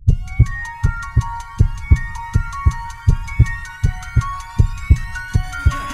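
A podcast jingle carries a steady heartbeat sound effect, with strong, regular thumping beats pulsing throughout under sustained, bright synth tones.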